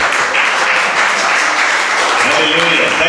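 Congregation clapping hands together at a Christian church service, a dense steady wash of applause filling the room with talk faintly underneath.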